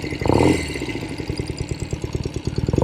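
A 1970 Royal Enfield Interceptor 750 Mk II motorcycle is ridden nearby; a brief louder burst is followed by a steady, pulsing twin-cylinder thrum of rapid regular firing beats, with no speech.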